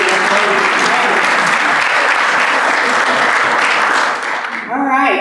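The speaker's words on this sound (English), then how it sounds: "round of applause for the best darn friend president." Loud, close applause from a Rotary club meeting crowd for the club president, steady throughout, with a voice beginning to speak over it near the end.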